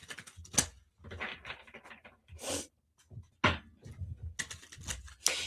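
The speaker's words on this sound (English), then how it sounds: "Let's do some shuffling." A deck of cards is shuffled and knocked together in short bursts of crisp riffling and tapping, close and fairly quiet, separated by brief pauses.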